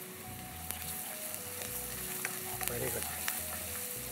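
Ginger garlic paste sizzles and fries steadily in a hot pan while it is stirred, with scraping spatula strokes throughout and a voice speaking briefly near the end, in a Tamil kitchen setting for fish masala.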